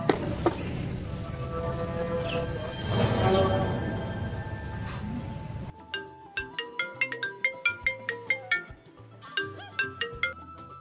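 A mobile phone ringtone plays a bright, repeating electronic melody of short plucked notes, loud and close, after several seconds of rumbling room noise.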